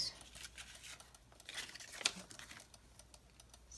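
Paper being cut with scissors for a journal project, faint crisp snips and light rustling close by.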